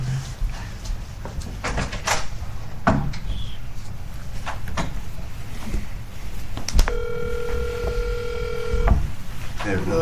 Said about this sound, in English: Now call Megan